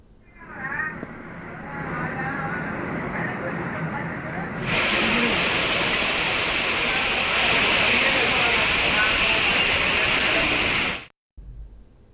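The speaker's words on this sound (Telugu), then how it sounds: "ఉరుములు మెరుపులతో కూడిన భారీ వర్షం కురుస్తోంది" Heavy rain with thunder and lightning pours steadily with a dense hiss that suddenly intensifies midway, accompanied by a faint low rumble, then cuts off abruptly.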